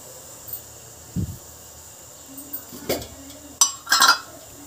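A metal cooking pot is set on a kitchen stove for tempering while tomato chutney is being made. A few faint, separate clinks and knocks sound against a quiet, hissy background.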